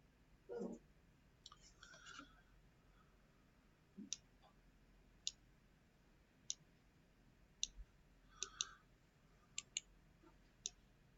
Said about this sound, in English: And then you left mouse click.